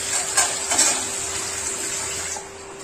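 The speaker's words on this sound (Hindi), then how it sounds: "हम आलू में पानी ऐड कर देंगे फ्रेंड्स।" Water runs steadily from a tap into a pot of potatoes, a continuous close splashing hiss for about three seconds that eases off near the end, with no voices.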